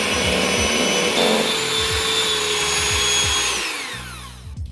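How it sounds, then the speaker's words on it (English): A blender whirs loudly and steadily as it mixes keto pumpkin cheesecake filling. The motor drones without a break, then winds down near the end. "Okay, let's blend it up."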